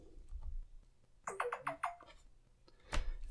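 A phone's charging chime: a quick cascade of four bright electronic tones, followed by a single sharp click a moment later.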